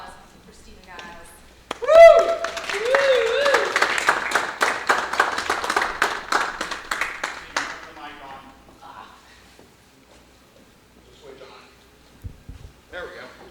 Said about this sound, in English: Round of applause for Stephen Giles.